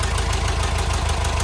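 A 1974 Volkswagen Westfalia engine idles steadily up close, its low, even putter carrying a faint ticking puff from a slight exhaust leak.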